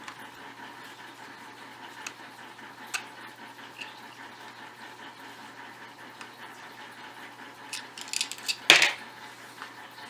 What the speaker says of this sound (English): So you want to make sure you use the proper size screwdriver. And we'll remove the grip panels.